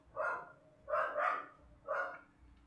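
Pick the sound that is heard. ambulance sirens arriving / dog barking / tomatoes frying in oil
dog barking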